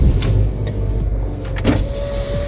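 A 2019 facelift Fiat 500 with a popped-out drive shaft makes a steady mechanical whirr and hum close up, with a faint rising whine near the end and no talking.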